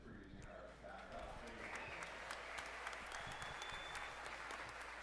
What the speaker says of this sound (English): Biggest applause I've got.